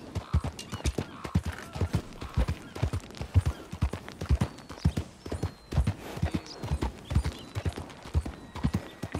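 Horse hooves clip-clopping in the Red Dead Redemption video game, a steady, close and fairly loud rhythmic trot that carries on throughout with no voices over it.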